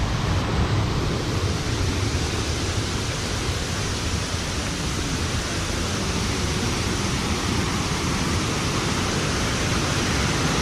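Little River Falls, a waterfall in Alabama, pours in a dense, unbroken roar that stays loud and even throughout, with no voices.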